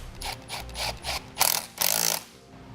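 A hand ratchet clicks in several quick bursts as it tightens a nut on a wiring harness ring terminal during a trailer wiring install on a 2013 Chrysler Town and Country, close and clear with no talking.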